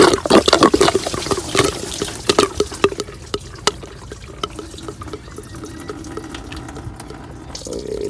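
Antifreeze draining from a Honda Pilot 3.5L engine during starter replacement, splashing and trickling in irregular bursts, louder at first and then thinning to faint dribbles, close by with no talk.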